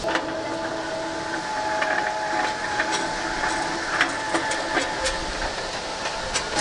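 An electric motor drive turns the skewers on a UMK Samzharych grill, powered from a power bank, giving a steady close whir with faint mechanical clicking and ticks running throughout, no voices.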